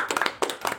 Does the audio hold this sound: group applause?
yes